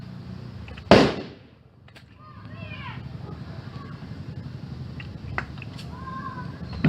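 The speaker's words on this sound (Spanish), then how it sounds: "Me hacen asustar esos cohetes." Firework rockets go off at a festival, with one sharp, loud burst near the start followed by scattered fainter pops and crackles in the distance over a steady background hum.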